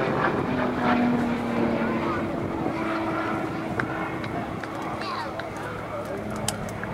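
An Extra 300L aerobatic airplane pulling into a torque roll at an air expo produces a continuous droning propeller roar with a steady engine tone, loud and sustained for the whole stretch.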